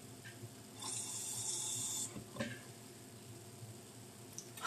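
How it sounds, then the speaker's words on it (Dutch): Water runs briefly from a kitchen tap for about a second while making homemade clay, then a few soft splashes and light handling noises follow in a quiet room. "dan doe je er een klein beetje water bij."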